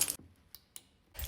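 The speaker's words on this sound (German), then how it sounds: "Wo ist mein Schlüssel? Got it." Keys jingle in short metallic bursts, a brief jangle at the start, two faint clinks in the middle, and a louder rattle at the end, close by with no talking.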